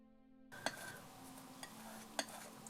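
A palette knife stirs and scrapes oil paint across a palette in a steady soft smear, broken by a few sharp clicks of the blade against the surface.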